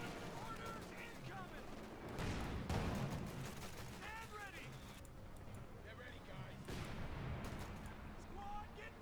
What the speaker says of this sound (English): despite the loss of the Sherman to German artillery of the heaviest kind